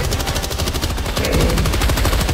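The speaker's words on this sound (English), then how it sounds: "I'll let the sentry gun deal with the charger." Sentry gun in Helldivers 2 firing a sustained, rapid automatic burst, loud and close, with dense rhythmic shots continuing throughout without pause.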